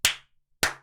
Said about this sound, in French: j'applaudis, moi